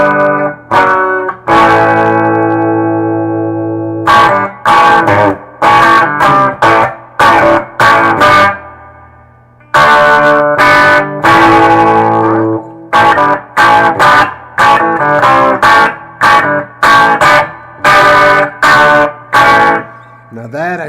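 Distorted electric guitar playing a riff, loud and close, with choppy stop-start phrases and sustained chords separated by short gaps, ringing alone without talk.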